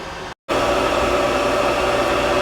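A hair dryer running off an inverter gives a steady, loud broadband whoosh that drops out for a split second near the start, then resumes unchanged and continuous.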